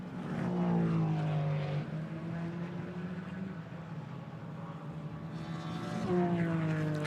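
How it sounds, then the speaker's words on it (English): Toyota GR Supra GT4 race car run by CMR at Paul Ricard, its engine note loud and close, holding steady tones that glide in pitch as it passes, then swelling again near the end. "That GT4 spec Supra makes a great noise."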